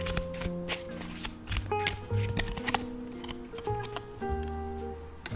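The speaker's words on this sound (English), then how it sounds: "let's pull some more cards here" Tarot cards being shuffled by hand, a series of quick riffling and flicking bursts up close, with brief pauses between handfuls.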